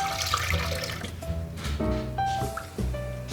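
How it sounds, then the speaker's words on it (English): Water is added to liver cooking in a pot, giving a steady pouring and splashing wash that runs continuously at moderate volume, with tonal music-like lines mixed underneath. "So I'm going to add some more water, just a little bit."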